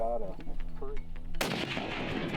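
A single loud rifle shot cracks during an elk hunt, a sharp nearby blast followed by a broad rolling echo that fades out, with faint voices in the moments before.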